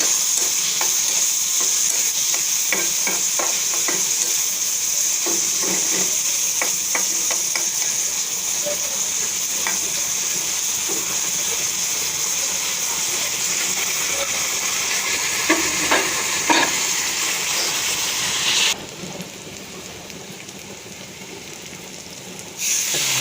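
Ground garlic and onion paste frying in a pan for fish, a steady loud sizzle and hiss with intermittent stirring scrapes, easing a little toward the end.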